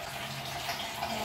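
Water runs weakly from a tap, a faint, steady thin trickle with a soft hiss and no talking.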